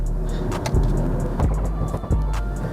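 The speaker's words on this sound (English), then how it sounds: "this downpipe is just making insane noises" A Stage 2 BMW M340i xDrive with an aftermarket downpipe gives a deep, close exhaust rumble broken by several sharp pops and crackles, with no talking.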